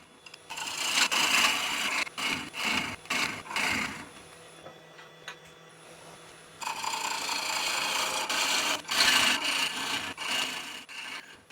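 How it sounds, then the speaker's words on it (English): A wood lathe turns an off-centre bowl on an off-centre tenon, the tool making loud rasping, shaving cuts in bursts that pause briefly midway, then resume with steady hiss and scrape close by. "it's now just a question of turning out the off-centre bowl"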